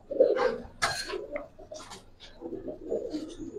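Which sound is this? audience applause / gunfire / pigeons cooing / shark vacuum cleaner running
pigeons cooing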